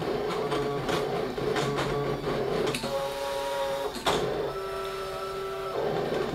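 A Brother ScanNCut electronic cutting machine cutting acetate whirs and clicks nearby, its small motor moving in short bursts with steady tones between them; no voices.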